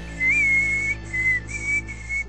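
A breathy flute melody from the Western-themed game Call of Juarez Gunslinger plays in four short phrases with brief gaps, clear and steady over a faint sustained low drone.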